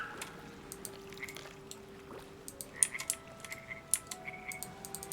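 Frog croaking in the video game Baldur's Gate 3, short repeated croaks and clicks in an irregular rhythm over a soft ambient drone, fairly close and alone without speech.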